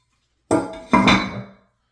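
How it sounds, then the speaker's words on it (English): A ceramic toilet tank lid is set down onto the tank in two quick hard contacts, a sharp knock followed by a ringing, scraping clunk as it settles, close and loud in an otherwise quiet room. "now we can put the lid on"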